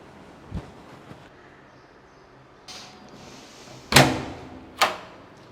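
A door is opened at home for a visitor, with faint handling knocks first, then a sharp latch clack and a second bang, close in a quiet room.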